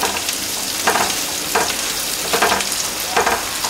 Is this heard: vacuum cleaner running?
no